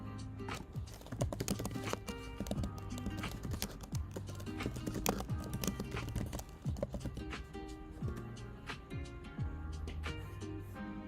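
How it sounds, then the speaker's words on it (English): Computer keyboard keys are tapped in quick irregular bursts close to the microphone, a dense clatter of small clicks with no pauses longer than a moment. "Sorry, that's just me typing."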